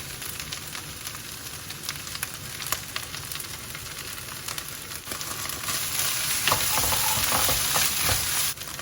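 Tomato puree frying with ginger garlic paste in a pan for a baby aubergine curry with peanut masala makes a loud, steady sizzle with stirring scrapes. The sizzle swells louder toward the end, and no one speaks.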